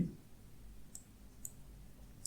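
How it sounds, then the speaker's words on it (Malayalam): Three faint, sharp clicks of a computer mouse, spaced about half a second apart, while working in animation software during an ICT lesson; there is a quiet background and no talking. "ഇനി ഏറ്റവും അവസാനത്തെ ഫ്രെയിമിൽ ക്ലിക്ക് ചെയ്യുന്നു"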